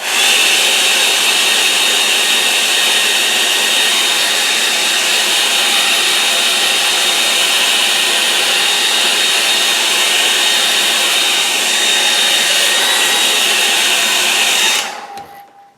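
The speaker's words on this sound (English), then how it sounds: "I'll just give that a good dry now. So bear with me, hair dryer." A hair dryer drying watercolour paint blows loudly and continuously at close range, a steady whooshing whine that winds down and stops at the end.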